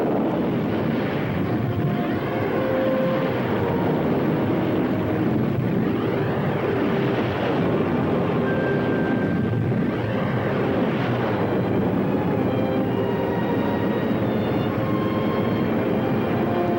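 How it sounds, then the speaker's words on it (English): Spacecraft engines start up in a 1960 science-fiction film, making a loud, steady broadband roar with wind-like rushing and faint shifting whines throughout, with no voices. "Engines at maximum speed."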